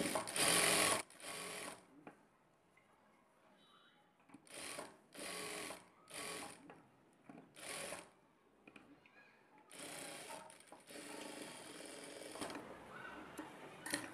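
A sewing machine stitches a prince cut blouse in a series of short, loud bursts with gaps between them, running a quarter-inch margin seam up close.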